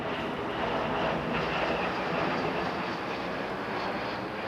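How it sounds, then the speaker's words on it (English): A steady, sustained jet aircraft roar holds evenly at moderate distance, with no voices over it. "Is that my jet?"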